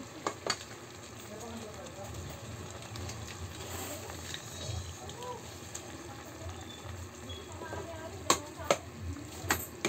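Pork giniling with tomato sauce is stirred in a pan, a soft sizzling bed under scraping utensil strokes and several sharp clacks against the metal, close up and fairly steady.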